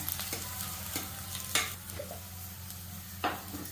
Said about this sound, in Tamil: இப்போ வெங்காயமும் பச்சை மிளகாவும் நல்லா வதங்கிடுச்சு பாருங்க